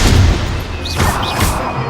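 A fire spell goes off in the fantasy video game Hogwarts Legacy, loud booming bursts with whooshing crackle, two or three punchy blasts in quick succession.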